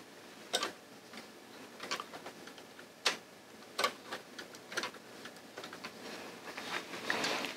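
Yarn is being cast on by hand on an LK150 knitting machine, giving a string of light, irregular clicks and ticks up close, with no talking.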